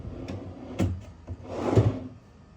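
A wooden drawer being slid open or closed in a woodworking shop, with a bowed panel making it drag; a couple of close, brief rubbing scrapes and knocks.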